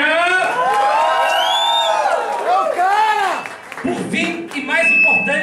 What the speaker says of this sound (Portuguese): uma salva de palmas para ele que foi da Batalha do Espaço